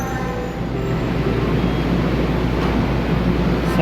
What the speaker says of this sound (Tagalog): Sakay kami ng tren.